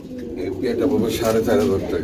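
Pigeons, including black birds, coo repeatedly and close by at a pigeon sale, their throaty rolling calls rising and falling while people talk nearby.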